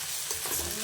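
Crushed garlic stirred in a hot pan, frying with a steady close sizzle and soft scraping from the stirring, heard briefly with no talk.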